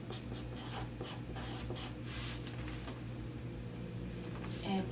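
A pen scratches across sewing pattern paper for a half circle skirt, soft close strokes in short bursts over a steady low room hum, no one speaking.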